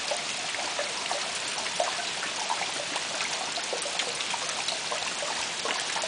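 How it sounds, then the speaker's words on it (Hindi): Rain falling during a fresh morning at an orchard, a soft continuous patter of many small drops with light trickling, steady and fairly quiet with no voices. "अब सुनिए बारिश की रिदम सुनाई दे रही है"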